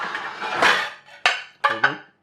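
Kitchen plates are handled and set down, making a quick run of sharp ceramic clinks and clatters, close and moderately loud, with no talking.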